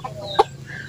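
A single short cluck from a chick, close and fairly clear, over a low steady background hum.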